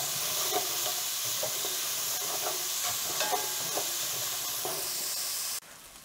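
Diced onion sizzles steadily in a hot pan for a beef short rib ragu, with scattered scraping stirs over a constant frying hiss that cuts off sharply near the end.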